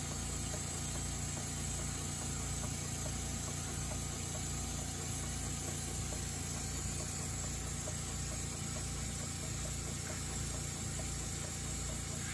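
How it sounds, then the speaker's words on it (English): A small oscillating cylinder engine, running on compressed air, runs continuously with a steady, buzzing hum and faint rhythmic chugging, unchanging throughout, with no voices. "I finally got my oscillating cylinder engine running"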